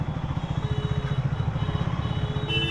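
A new 400cc, 40 PS motorcycle ridden steadily, its engine giving a continuous low, pulsing drone with a rapid even throb and faint clatter, fairly close and without talk.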